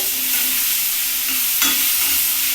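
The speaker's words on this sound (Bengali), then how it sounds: "এর মধ্যে এবার দিয়ে দিচ্ছি ফুলকপি ফুলকপিটা একটু হালকা করছি এইভাবে ভাজবো" Cauliflower and potatoes fry in a pan with a bright, steady sizzling hiss close up, a short stirring scrape rising briefly midway.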